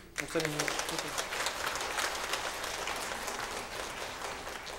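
A church congregation at a Sunday afternoon praise service breaks into steady applause, a dense wash of clapping that starts sharply and holds for several seconds, with a brief voice at the start.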